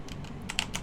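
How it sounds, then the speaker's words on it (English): Quick clicks on a computer keyboard, a short burst of several close keystrokes in an otherwise quiet room. "when we type something in"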